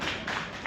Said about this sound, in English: Let's give a round of applause for Scott.